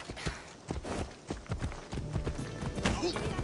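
A horse's hooves clip-clop at a fast gait across the ground in the game Assassin's Creed Odyssey, a busy, rhythmic pattern of hoofbeats throughout, with a voice speaking over them.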